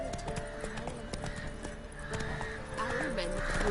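Hooves of the horse Roach clip-clop steadily in The Witcher 3: Wild Hunt, with a voice talking over them and tonal game sounds in the background.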